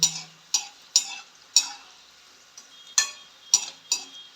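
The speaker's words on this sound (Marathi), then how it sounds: "खमंग अशा तळून घ्यायची आहेत" Spinach bhaji fritters cook in a small amount of oil while a utensil taps and scrapes the pan in a series of sharp, close clicks and light sizzles, with quiet gaps between strokes.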